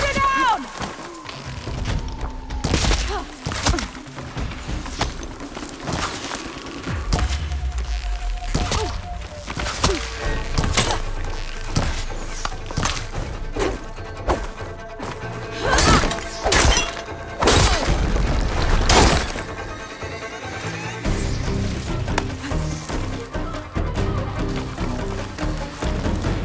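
Machine being shot down in Horizon Forbidden West: loud game combat with repeated sharp shattering and smashing impacts, heavy thuds and crashes through the whole stretch, a voice speaking intermittently over the din.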